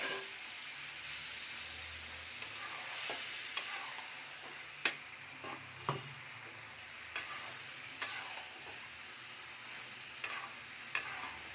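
Cauliflower and potato pieces frying in a pan alongside koi fish: a steady, low sizzle broken by sharp, irregular clicks and taps of stirring against the pan, with no voices.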